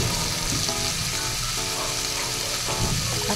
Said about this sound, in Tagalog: Gisa-gisa muna natin ang carrot natin sa ating chicken para mag-absorb din ng mga seasoning na nilagay natin